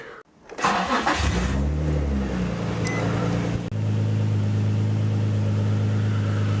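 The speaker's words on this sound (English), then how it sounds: "I'm gonna start the car and test it first." A Nissan 350Z engine cranks briefly and catches, then settles into a loud, steady idle with a low hum close by and no talking.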